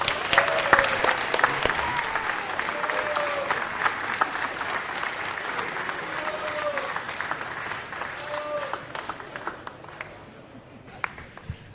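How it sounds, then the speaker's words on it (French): Crowd at a political meeting applauding a député, sustained clapping with scattered cheers and voices, gradually thinning and fading toward the end. "je vous prie d'applaudir notre député de 3e circonscription"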